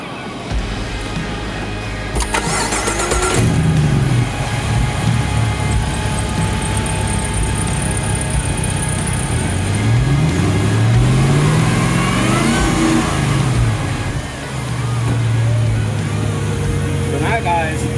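Land Rover Defender fitted with a 660-horsepower LT4 V8 and 8-speed automatic idles with a deep rumble, then revs in several rising pulls, loud and close, with someone talking over the engine.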